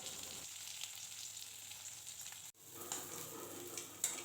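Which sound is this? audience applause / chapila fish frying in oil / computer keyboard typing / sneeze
chapila fish frying in oil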